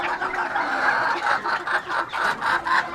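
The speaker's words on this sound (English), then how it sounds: "these are bantam chickens" Bantam chickens cluck and chortle in a steady, busy stream of short calls nearby, a low continuous murmur of birds with no one talking.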